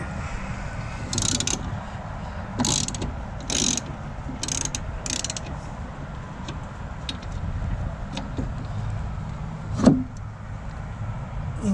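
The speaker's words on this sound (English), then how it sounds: "And we're going to break these bolts loose." Ratchet wrench clicking as bolts are broken loose on a plastic Honda mower deck, blades blocked with a piece of wood: bursts of rapid ratcheting clicks, with a sharp clank near the end.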